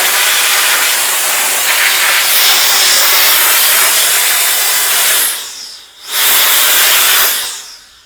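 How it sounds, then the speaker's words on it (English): A Hertzborn electric compressed air duster blower, a 160000 RPM three-gear unit, runs with a loud, steady rushing hiss, briefly cuts out near the end, then surges back at full strength before fading. "or we can have this thing just automatically run"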